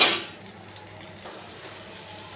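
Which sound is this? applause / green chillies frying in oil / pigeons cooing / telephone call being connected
green chillies frying in oil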